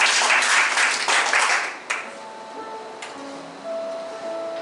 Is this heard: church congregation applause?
yes